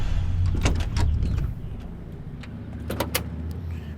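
Door of a 1969 Ford Mustang Mach 1 with a built 351 cubic-inch engine being opened: a mechanical latch clunk and creak up close over low rumbling background, followed by a quieter pair of clicks near the end.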